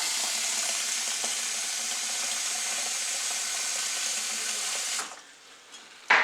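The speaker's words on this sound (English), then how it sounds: "So you're going to want to fill this pot up about 3/4 quarters away." Tap water runs steadily into a pot at a kitchen sink, a continuous bright hiss and splash lasting about five seconds before the flow stops, followed by a brief clunk.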